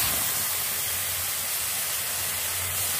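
Ginger and green chili paste sizzles in a hot pan while cooking a Bengali koi fish curry with potatoes, giving a steady, close, loud broadband hiss throughout with no talking.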